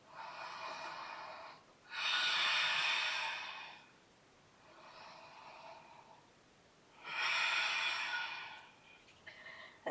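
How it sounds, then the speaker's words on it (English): Slow, deep breaths during a yoga stretch with arms interlaced behind the back: two long airy inhale-exhale cycles, each swelling then fading, close and soft with no talk. "2 more deep breaths"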